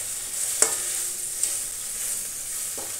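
Chicken curry with yogurt is stirred in a pan: soft scraping strokes and a couple of sharp spoon clicks over a steady, quiet sizzle.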